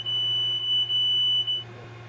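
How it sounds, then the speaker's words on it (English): Steady continuous electronic alarm tone from a tanker's cargo overfill alarm, a single unbroken high beep lasting about a second and a half before cutting off, with a low hum underneath. "There must be audible and visual alarm indicators visible both on the cargo deck and where the transfer operation is controlled."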